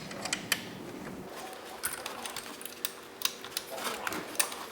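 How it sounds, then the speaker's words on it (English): Allen wrench and 10mm wrench tightening a nut while assembling a kids' 500W electric ATV, faint close metallic clicks and ratcheting taps at irregular intervals. "you'll just tighten these down with your Allen wrench and your 10mm wrench on the nut"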